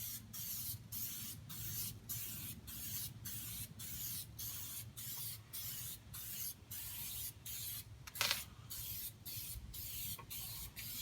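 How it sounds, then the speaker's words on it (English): Aerosol spray paint hisses onto a John Deere mower deck in a long run of even, regularly spaced bursts, each stroke separated by a brief pause, fairly quiet and close. "So spray it on. It's like using any other aerosol paints, just a thin layer."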